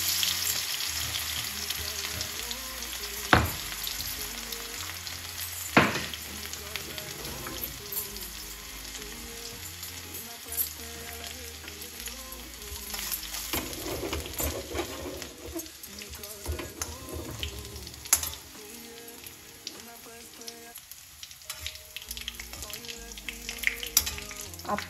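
Crushed garlic frying in hot oil with a pinch of asafoetida, a continuous crackling sizzle with occasional sharper pops and stirring clatter, close and steady throughout.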